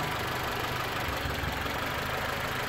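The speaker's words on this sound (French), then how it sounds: "Pas stable le ralenti. Hein? Il y a des ratés." A Mitsubishi Colt engine idles close by after a coolant change, a steady rough drone with an uneven, slightly knocking beat of misfires throughout.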